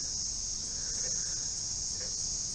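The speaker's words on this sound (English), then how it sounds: "This year there are lots of cicadas out." Many cicadas out in summer give a continuous high, shrill buzzing drone that holds steady and even throughout, with no voices.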